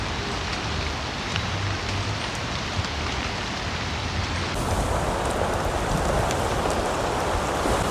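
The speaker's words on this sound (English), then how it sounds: "Can hear the rain rushing down right now." Heavy hurricane rain rushes down in Jamaica as a dense, steady hiss of drops on surfaces that thickens and grows louder partway through, with no voices.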